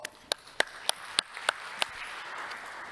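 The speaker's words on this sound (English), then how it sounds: "Let's welcome him with a round of applause." A few scattered, fairly faint claps from an audience welcoming a speaker at a healthcare data research event, sounding like a small, thin round of applause that fades out.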